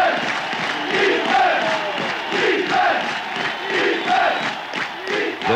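A football stadium crowd at a 1981 New York Jets game chanting rhythmically in unison, repeated swelling shouts like a defense chant, loud and massed.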